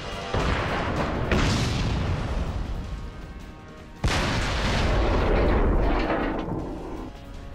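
Tank cannon fire and impacts in World of Tanks clan battle, two heavy booming blasts with long rumbling decays, loud and close, no talk.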